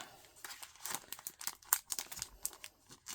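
A clear plastic envelope crinkles and rustles in quick, uneven bursts as a greeting card is pushed inside, close and fairly quiet with sharp crackly peaks and no talking.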